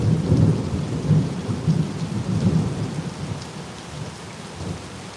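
Heavy rain pours steadily on surfaces around a Florida campsite while low rolling thunder rumbles in swelling waves throughout, no voices present.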